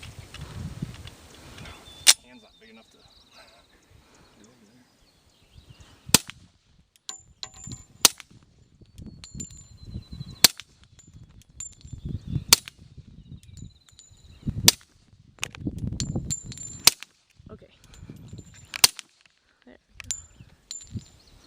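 Shots at an outdoor shooting range, including a 1911 pistol, crack out as sharp isolated reports spaced a few seconds apart, with people talking quietly between them.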